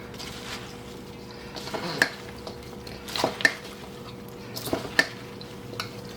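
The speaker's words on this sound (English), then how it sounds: "So I'm going to get it started with the spatula and then move to my hands." A spatula stirring vegetables through a spice mixture for fermenting, producing soft wet scrapes and a few sharp taps against the bowl, close and quiet with no talking.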